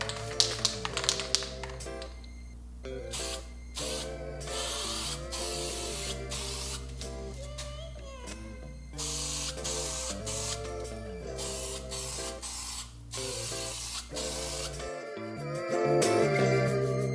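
Spray primer is applied to custom keyboard keycaps in a quick series of short hissing bursts that start and stop repeatedly, with light taps and clicks between them, close and clear.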